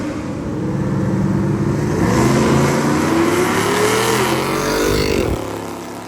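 Stick-shift drag racing cars, eight-second machines including a small-block naturally aspirated Camaro, roar down the strip with loud, rising engine revs that climb steadily through the run, then cut off sharply near the end.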